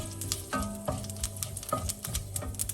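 Cumin seeds and two small bay leaves sizzle in hot oil in a pan for a bottle gourd and prawn curry, a steady close crackle broken by a few stirring scrapes, with no talk.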